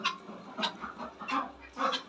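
Chickens and a rooster in a home garden, with several short clucks and calls at moderate distance in an irregular rhythm, fairly faint.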